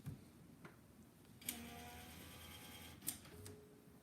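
An Epson P600 printer converted for direct-to-garment printing runs a head-cleaning cycle, giving a low mechanical whir with faint ticks and two sharp clicks or bursts as the print head sprays ink, quiet and close.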